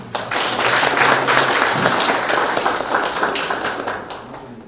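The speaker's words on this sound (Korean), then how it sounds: "박수 한번 보내주십시오" Crowd applause at a Democratic Party campaign gathering in North Jeolla province, welcoming a candidate's parents; dense, loud clapping swells quickly and carries on, gradually thinning toward the end.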